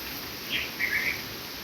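Sparrows in a home vegetable garden among cherry tomato plants give a few brief high chirps over steady background hiss, faint and short.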